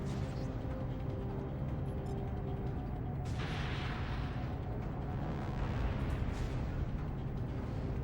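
Air-to-surface missiles striking moving ground targets in the flight game Dropship: United Peace Force, heard as a dense, steady rumble of blasts and engine roar with a brighter burst partway through, close and loud, without talking.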